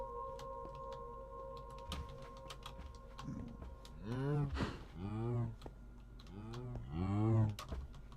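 A cow in the video game Minecraft gives a few drawn-out, low moos in the second half, with quieter game sounds before them.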